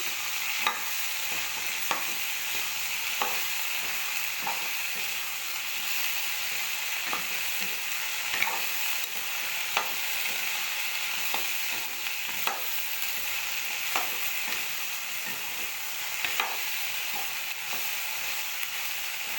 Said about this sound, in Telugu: ఇది ఫ్రై చేయాలి.